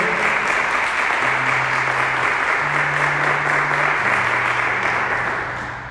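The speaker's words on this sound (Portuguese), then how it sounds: "Vamos aplaudir a palavra de Deus." A church congregation applauds steadily after a scripture reading during a sermon, with dense, sustained clapping at full volume that tapers slightly at the end while a low hum runs beneath.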